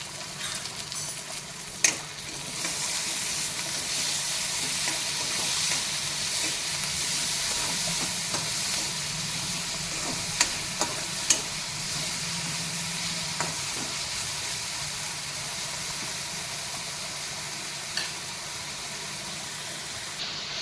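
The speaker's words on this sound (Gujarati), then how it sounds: "એ ટામેટાં સરસ શેકાય છે।" Tomatoes roasting with salt in a pan for upma: a steady close-up sizzle and hiss throughout, with a few soft clicks of stirring.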